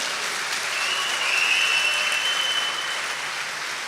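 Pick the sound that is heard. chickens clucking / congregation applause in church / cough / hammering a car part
congregation applause in church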